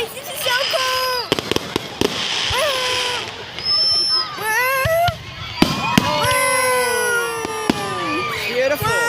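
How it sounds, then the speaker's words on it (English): Fireworks burst over a park on New Year's Eve: sharp cracks and booms alternate with rising whistles and crackling sparkles, loud and close, while excited people exclaim and talk beneath the display. "We're at a park and we're watching fireworks."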